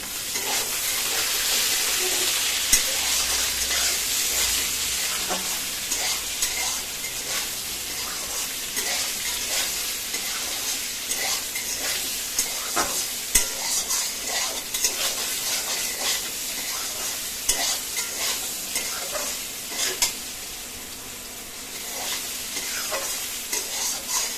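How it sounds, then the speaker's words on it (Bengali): Pointed gourd (potol) pieces fry in oil in a pan with salt, giving a steady loud sizzle throughout, punctuated by repeated scraping and clinking strokes of a spatula stirring them, with no talk. "পটলগুলো একটু ভালো করে ভাজা ভাজা করে নেব"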